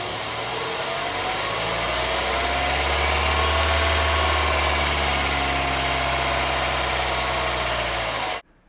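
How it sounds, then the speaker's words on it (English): A Mercedes-Benz C180 engine idles steadily with a deep, even rumble and hum, close and constant, then cuts off abruptly at the end. "we have to start the engine, and then keeps the engine running and check"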